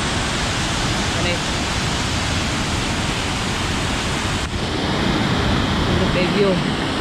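Steady broadband roar of the waterfall at Fenelon Falls, loud and continuous throughout with no clear break, heard close by from a spot reached on a long bike ride.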